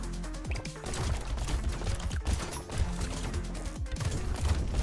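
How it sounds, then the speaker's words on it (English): Incendiary turrets fire in a video game as rapid, dense bursts of shots in a continuous loud barrage with mechanical clatter and no speech. "We got incendiary turrets now"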